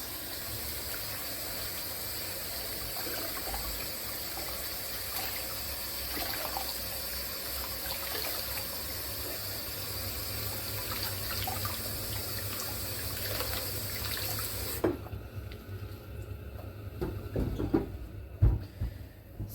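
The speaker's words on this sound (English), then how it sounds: "Just going to give this a rinse." A cork log for a hamster being rinsed under a running kitchen tap, with a steady close stream of water that stops near the end, followed by a few drips and handling knocks.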